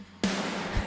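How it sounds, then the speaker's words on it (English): A massive snare bomb sample hits once in a song mix, a sudden loud burst with a long wash of noisy decay and a low thump near the end. "I kind of want to drop that snare bomb here"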